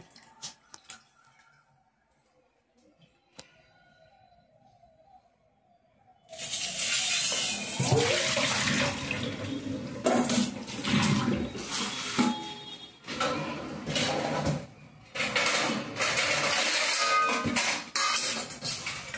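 Water poured off freshly washed mushrooms, a steady close splashing gush that starts abruptly after quiet handling noises and runs continuously with uneven surges and spatters.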